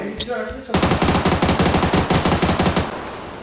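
Loud rapid automatic gunfire in the video game PUBG, a sustained burst of tightly spaced shots running for a couple of seconds before cutting off.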